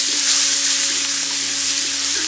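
Crushed shallots and ground chilli powder fry steadily in hot oil in a pan, a dense even sizzle with occasional soft stirring clicks, close and continuous with no talking.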